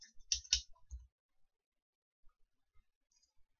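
Someone types on a computer keyboard during Excel work, a quick cluster of sharp key clicks at first, then sparse, faint taps spread across a quiet background.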